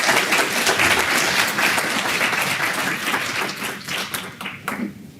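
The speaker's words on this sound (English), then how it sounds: "Another round of applause for all of the presenters" An audience applauds conference presenters, a dense, sustained round of clapping that thins out into scattered claps toward the end.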